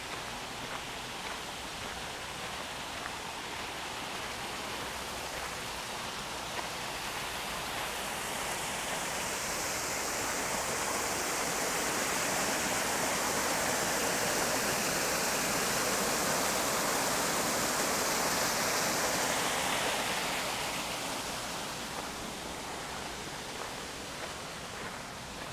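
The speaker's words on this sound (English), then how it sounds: "This is the best waterfall of the garden" A waterfall in a Japanese garden among rocks and stairs rushes in a steady, broad roar that swells louder through the middle, then eases slightly, heard close with no voices.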